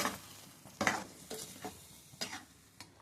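Curry with taro root sizzles and fries in a pan while a spoon stirs and scrapes against the metal in irregular strokes, close and fairly quiet.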